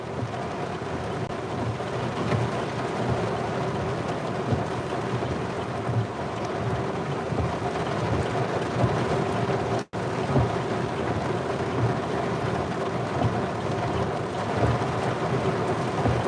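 A strong Pennsylvania thunderstorm brings heavy rain, which roars steadily and densely throughout, with low rumbling beneath and one brief dropout near the middle.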